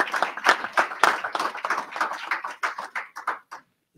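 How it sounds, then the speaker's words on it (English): Audience applause greets Rye CEO Paul Jacob at a Kentucky policy event, a dense burst of hand clapping that rings out loud and then thins to scattered claps before stopping near the end. "let's give him a big round of applause"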